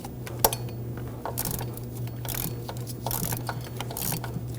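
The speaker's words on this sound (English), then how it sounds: "Give the other one a few turns, and we'll go back and forth until both bolts are fully loosened." Bolts on the high-pressure fuel pump of a 2015-2024 Ford Edge 2.0L four-cylinder are turned loose, with short bursts of light metallic clicking and clinking that come and go over a quiet background.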